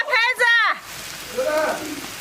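Goose eggs and garlic sprouts stir-frying in a pan give a soft, steady sizzle. Someone speaks over the first part, and the frying carries on alone afterward.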